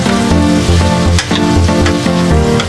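Chayote and sardines sautéing in a hot pan, a steady close sizzle and crackle of frying with stirring scrapes, loud and continuous with no talking.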